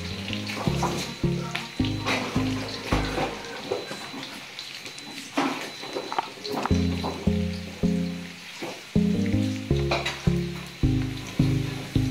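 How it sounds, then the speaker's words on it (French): Onions fry in a hot pan with a constant sizzle, overlaid by steady rhythmic pulsing strokes and scraping, close and fairly loud, with no talking. "je vais griller par la suite les oignons"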